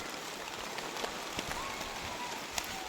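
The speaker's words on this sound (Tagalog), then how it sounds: "So ayan mga kabundok, inabot na tayo ng ulan." Steady mountain rain hisses on a surface, with scattered louder drops tapping through the continuous wash of sound.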